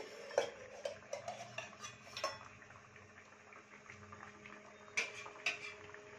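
A cooking-pot lid lifted from a simmering mola carplet fish curry: a few light metallic clinks and taps over a soft, steady bubbling, with a brighter pair of clanks near the end.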